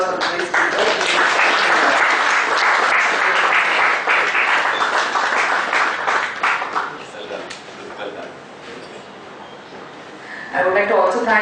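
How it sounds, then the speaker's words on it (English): An audience at a cross-border taxation seminar gives a loud, sustained round of applause that gradually thins out, and a voice begins speaking as the clapping fades. "Please give a big round of applause for today's speaker."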